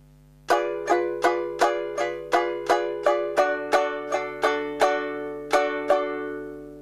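Ukulele strumming chords in a steady down-up rhythm, about a dozen bright strums, close and clear with no voices.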